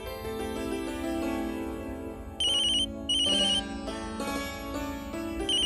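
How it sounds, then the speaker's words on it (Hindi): A telephone ringtone plays in repeated bursts of bright electronic tones over a sustained musical background, with no talking. "वर्षा का फोन है।"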